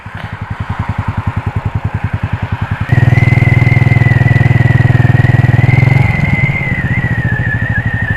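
A motorcycle engine chugs in a steady, fast idle pulse, then roars louder and smoother with a high whine as the bike is turned around on a Thai road, before settling back to a lower drone, close and loud.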